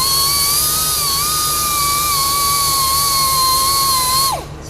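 A loud, high-pitched grinder whines continuously, its pitch wavering slightly as it bites into a Porsche wheel rim's curb rash, then abruptly winds down at the end.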